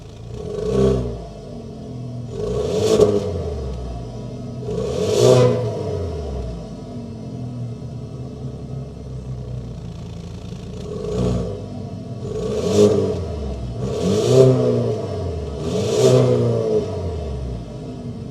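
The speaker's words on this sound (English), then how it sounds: "Let's go inside this turbocharged engine and hear that exhaust note." A turbocharged 2022 Cadillac CT4 Sport engine revs repeatedly, each exhaust blip swelling and falling back, several rises in clusters with a brief lull between, close and fairly loud.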